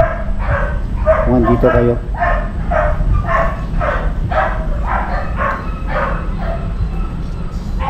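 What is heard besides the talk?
dog barking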